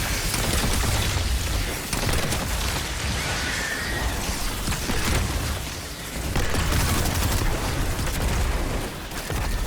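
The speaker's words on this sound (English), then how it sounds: "Trying to get his shield up before those Malpaeus rounds explode on him." Gunfire and exploding rounds in the video game Destiny 2, a dense, continuous barrage of loud booms and crackling blasts filling the clip without pause and with no speech.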